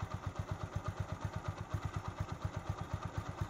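A motorcycle engine idles close by with a steady, even thump-thump beat and a light mechanical clatter running through, moderately loud and alone without talk.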